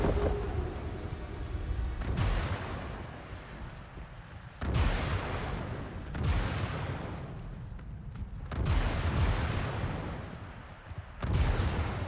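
Confringo blasting spells in Hogwarts Legacy, heard as a series of four or five heavy booming explosions spaced a couple of seconds apart, each one rumbling and fading before the next, loud and without any talk.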